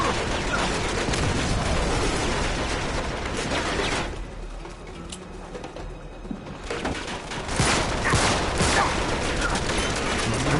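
Sustained gunfire from a gun emplacement in Uncharted 3: Drake's Deception, a dense rattling barrage that eases off briefly in the middle and then comes back loud, with no voices.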